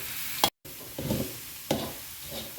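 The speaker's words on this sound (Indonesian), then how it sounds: "Nah, ini prosesnya harus tetap diaduk-aduk dia agar tidak gosong bagian bawahnya." Grated coconut for sambal is stirred and scraped in a frying pan, giving a few soft scraping strokes over a low sizzle, quiet and close.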